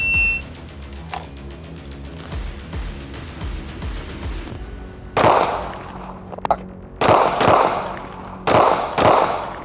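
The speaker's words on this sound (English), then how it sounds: "I had to fire 6 rounds, reload, and then fire another 6 rounds" Handgun shots at a SWAT academy shooting test crack out in a string, faint and scattered at first, then several loud, close reports with short gaps between them.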